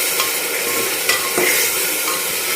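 Ginger, garlic and green chili paste sautéing in a pan: a spatula scrapes and stirs over a steady, close sizzle, briefly and with no talking.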